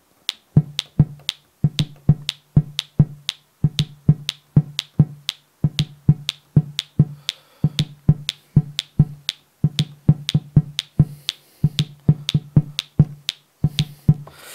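Drum machine pattern recorded without quantizing and deliberately played out of time, giving an uneven, loose rhythm of sharp percussive hits with a low thump under crisp clicks, steady and loud with no talking.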